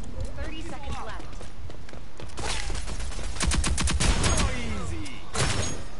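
Bursts of gunfire from the online shooter Rogue Company, rapid volleys of shots clustered in the middle of the clip amid other game noise, with voices talking over it.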